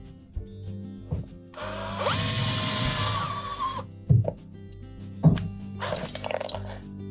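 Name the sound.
cordless drill with 1/8 inch bit drilling out a rivet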